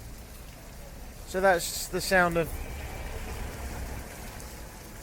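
Rain falls on a cobbled street in the Azores, a steady, soft hiss throughout, with someone speaking briefly over it.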